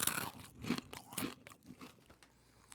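Crunchy snack being bitten and chewed up close in a series of sharp, irregular crunches that fade toward the end, with no talking.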